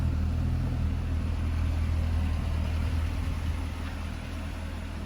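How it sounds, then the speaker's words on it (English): A 2013 Chevrolet Corvette Grand Sport convertible idles steadily, heard from behind the car, its deep, even rumble continuous and fairly loud with no voices. "here it is from the back running"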